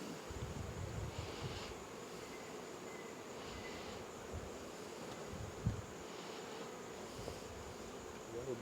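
Honey bees droning steadily around an open hive during an August inspection, a faint continuous buzz with occasional nearer passes that swell briefly, set against a quiet outdoor background.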